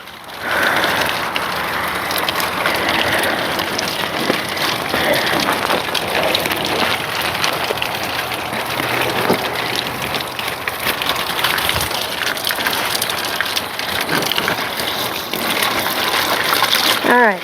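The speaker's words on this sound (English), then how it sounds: "it's pouring" Heavy rain pours steadily at a farm, a dense continuous wash of drops spattering on surfaces, with occasional splashes and handling noises close by.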